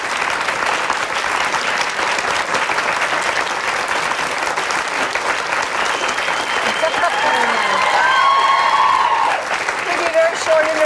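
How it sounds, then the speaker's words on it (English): A studio audience applauds warmly and continuously for a long stretch at a 1996 television interview with a guest, the dense clapping swelling slightly near the end as voices begin speaking over it. "They'll just applaud for an hour."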